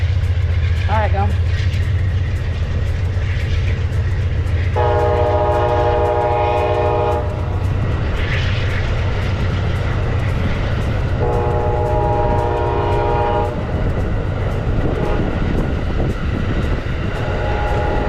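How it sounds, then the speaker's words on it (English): An Amtrak passenger train rolls past in Florida with a constant loud rail rumble, sounding two sustained chord-like horn blasts a few seconds apart, while the clattering of the cars carries on steadily to the end. "What a long trip for this train."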